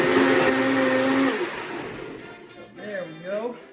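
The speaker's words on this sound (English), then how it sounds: "Now we're going to put it on the blender mode." A loud blender whirs steadily, then winds down as a voice begins talking over the fading motor.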